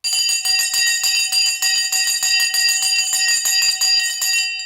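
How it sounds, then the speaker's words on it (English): Stock market closing bell ringing rapidly and continuously for several seconds, a loud sustained metallic clatter of repeated strikes that stops abruptly at the end. "You saw the bell go there."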